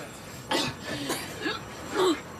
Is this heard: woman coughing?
yes